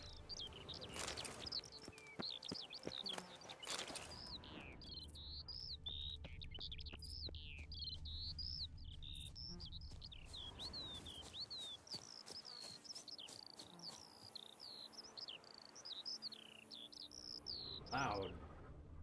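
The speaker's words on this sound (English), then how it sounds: "Birds." Birds chirp steadily in The Witcher 3 video game, a dense layer of small high tweets across the whole stretch with soft crickets beneath, plus a couple of brief thumps and a short faint voice near the start and end.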